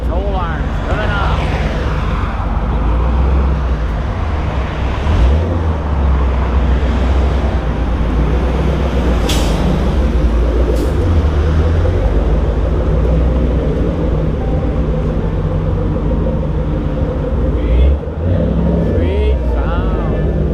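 A Ford GT500 drives in with a loud, continuous engine roar and road rumble that builds and holds steady, with a voice talking over it.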